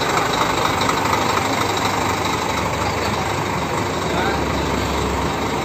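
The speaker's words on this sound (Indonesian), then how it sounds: "Kita lihat engine-nya. Suara mesinnya sangat garang." A double decker SR 2 bus engine runs steadily and loudly at close range, a dense, gruff mechanical roar that holds unchanged throughout without pause.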